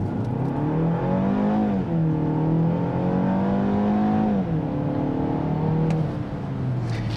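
A 2023 BMW X1 xDrive28i SUV accelerates hard from a brake-torqued launch, its engine note climbing steadily through gear changes, loud and continuous with a brief dip between shifts.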